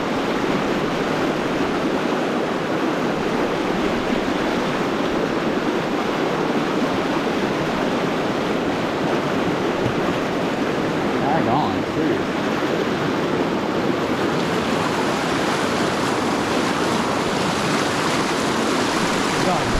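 Fast river current rushing in high water on a brown trout stream, a loud continuous broadband roar that stays steady and close throughout, with no talking.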